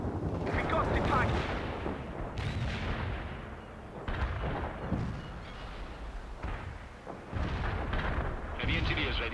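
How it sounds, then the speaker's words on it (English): Repeated heavy artillery blasts and rumbling explosions fill a battle in the strategy video game World in Conflict. The booms come in bursts over several seconds, with radio-style voices talking at times. "Artillery rounds are inbound."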